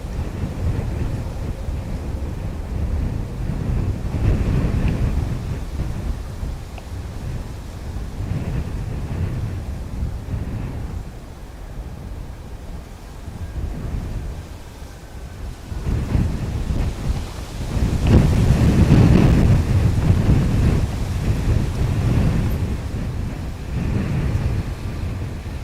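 Gusty wind buffeting a microphone at Dublin Airport, a loud continuous low roar that swells and eases in waves, rising to a heavy gust late on.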